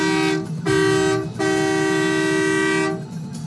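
A bus horn sounds loud and close in a rhythmic pattern: a short toot, a second short toot, then one long sustained blast before it cuts off.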